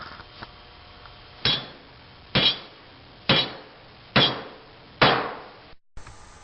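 Five evenly spaced hammer blows drive nails into wooden perches on a bird feeder, each a sharp close strike with a short ringing decay, separated by quiet pauses.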